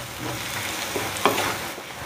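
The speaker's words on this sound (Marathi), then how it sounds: "आपल्याला भरपूर वेळ कांदा परतून घ्यायचा आहे" Onions sautéing in oil in a pan for a Kolhapuri-spiced baby potato bhaji, a steady close sizzle with a brief spoon stir partway through.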